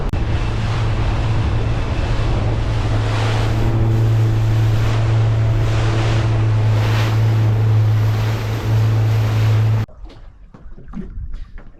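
Long, tall ocean swell and wind at sea a few miles off the bar at Salcombe, a loud continuous roar of wind and surf with a steady low boat engine drone, cutting to quieter gusty bursts near the end.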